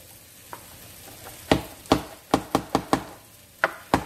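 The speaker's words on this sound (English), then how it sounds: "I put the tip down like this and just rock the knife and move it" A kitchen knife rocking on a cutting board as garlic is minced: a quick series of sharp, close taps in an uneven rhythm, coming about two to three per second, with no talking.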